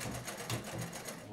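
A vintage Bel Air sewing machine stitches in a quick, steady rhythmic whir with regular mechanical pulses, fairly quiet and close.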